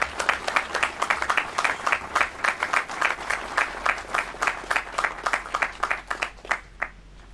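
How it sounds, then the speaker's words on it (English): Audience applause at the grand opening of an animal shelter, a steady run of individual claps from a modest crowd, fairly close and even, lasting several seconds without speech. "Please give them a round of applause"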